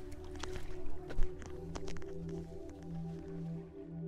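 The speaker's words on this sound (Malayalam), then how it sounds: "അപ്പോ ആ ചേട്ടൻ ബോട്ട് അടുപ്പിക്കാൻ പോണേന്" A boat is brought alongside to dock at Thanthonni Thuruth island, a soft low engine hum with some creaks and squishy water knocks against the hull, quiet and close, with no talk.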